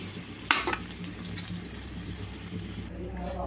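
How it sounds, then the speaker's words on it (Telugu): Paneer frying in a pan for paneer butter masala, a steady low sizzle with a brief louder stir-clatter early on, continuing faintly throughout. "పన్నీర్ అనేది ఇప్పుడు ఈ విధంగా వేగిన తర్వాత తీసేసుకోవాలి"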